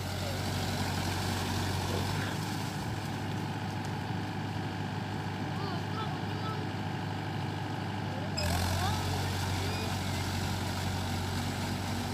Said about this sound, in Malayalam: ഇപ്പം മെഷീനിലോട്ട് മാറിയപ്പോൾ ട്രാക്ടറായാണ്